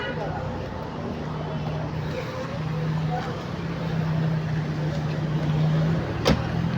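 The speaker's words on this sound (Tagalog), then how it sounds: "Parang divisoria din na akala mo ang daming mga sasakyan na pwede ka mabangga anytime." Busy street traffic in Old Batha with many cars passing, a steady engine rumble and road noise swelling gradually, a low vehicle drone and a brief honk-like tone near the end, while a person talks over it.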